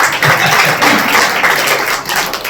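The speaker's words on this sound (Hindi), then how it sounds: "जोरदार तालियां के लिए" An audience at a B. R. Ambedkar Jayanti celebration in Lohara Ladwa breaks into steady, dense applause, a close wash of many hands clapping that holds for a few seconds.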